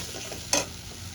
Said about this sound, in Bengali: এবার আমি মশলাটা ভালো করে কষিয়ে নেব, তারপরে বেসিক মশলাগুলো আমি অ্যাড করব।